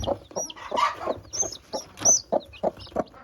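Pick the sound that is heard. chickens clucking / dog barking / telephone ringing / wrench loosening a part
chickens clucking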